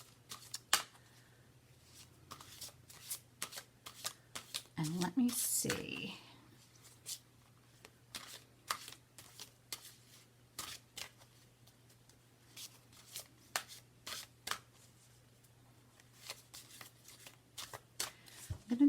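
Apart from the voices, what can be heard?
shuffling tarot cards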